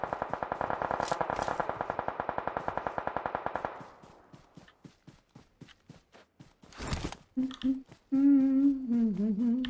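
Enemy automatic gunfire in a combat video game, a rapid steady burst for several seconds followed by scattered single shots, then a louder blast and a person speaking.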